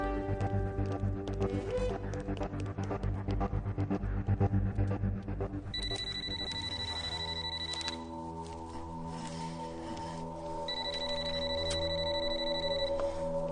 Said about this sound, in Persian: سلیمان تلفن زنگ میزند، کنی بین؟